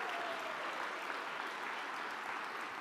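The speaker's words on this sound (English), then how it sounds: "let's give a big round of applause to all of our report outs there." Steady, dense audience applause after report-out presentations at a closing session, continuous and fairly faint, with no voices over it.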